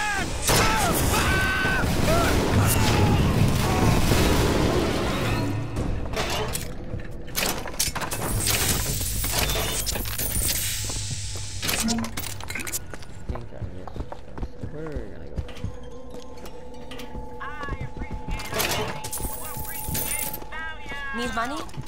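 Gunfire in the video game BioShock Infinite during an execution scene: a busy, loud mix of shots and impacts with clattering and hoofbeat-like thuds, heard under frequent voices talking throughout.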